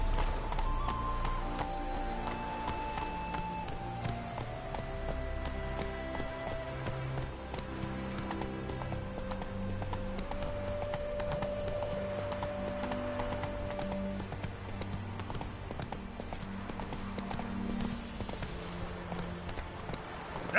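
Hoofbeats of Roach, a horse in The Witcher video game, clop in a steady running rhythm over a dense bed of game music and ambience, moderately loud and continuous throughout.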